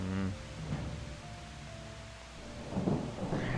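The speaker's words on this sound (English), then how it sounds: "Storms are relentless. Just doesn't stop here." Thunder rumbles under steady rain in the Project Zomboid video game, a low rolling boom over constant hissing rainfall, moderately loud and filling the whole stretch.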